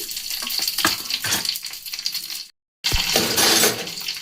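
Cumin seeds and a dried red chilli sizzle and crackle in hot oil in a pan while being stirred, a dense, loud frying hiss broken by a brief silent gap and then resuming.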